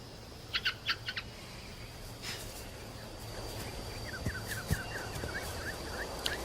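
A bird gives a series of short, chirping calls in the middle distance, with an earlier cluster of sharp chirps, heard against steady low background noise.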